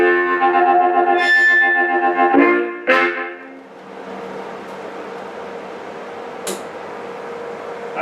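A harmonica played through several vintage harp amps at once via a splitter, loud, thick and distorted with heavy echo, sustained wailing notes that drop into a gritty, noisy wash.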